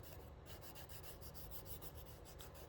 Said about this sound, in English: With the 180 side, you are going to lightly buff the top of your nail.